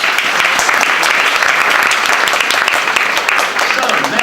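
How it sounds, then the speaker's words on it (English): A pitch-night finals audience gives a presenter a loud, dense round of applause that holds steady for about four seconds, close and continuous, with a little voice mixed into the crowd noise. "Let's give William another applause."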